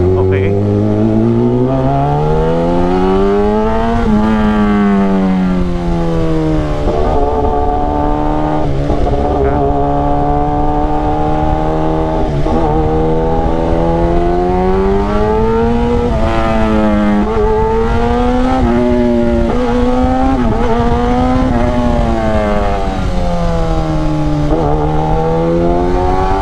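A Kawasaki ZX-10RR Winter Edition sport motorcycle engine runs hard throughout on a night ride, its pitch climbing and dropping as it revs through gears at speed, loud and close.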